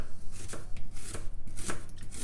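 Quick knife chops tap against a cutting board in a short, fairly rapid run, close and clear, with no speech.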